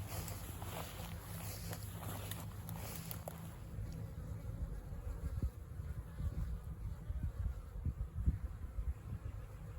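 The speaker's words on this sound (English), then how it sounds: "Pretty decent sized swarm right here." A honey bee swarm hangs in a tree, filling the air with a dense, continuous droning buzz. The hum stays steady and fairly faint throughout, with scattered nearby rustles and knocks.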